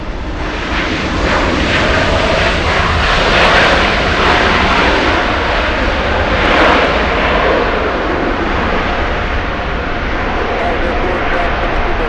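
Airplane taxiing at Los Angeles LAX airport, a steady broad engine roar heard from nearby for the whole stretch, with a speaking voice faintly underneath.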